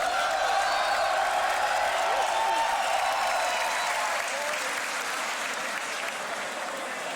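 Audience at a beatbox battle elimination breaks into sustained loud applause and cheering, a dense wash of clapping and crowd noise that slowly eases off, with a few voices rising through it.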